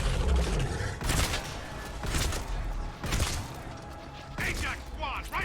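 Gunfire in Mass Effect Legendary Edition combat: repeated bursts of rapid weapon fire at roughly one-second intervals, loud and close, with a voice talking between volleys.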